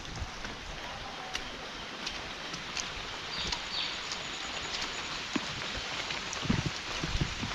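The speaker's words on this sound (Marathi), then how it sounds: "पावसानं जोरच केल्यान जरा." Heavy rain falls steadily in the Konkan countryside, a dense, even hiss that fills the whole clip with a few louder drips and taps near the end, no one speaking.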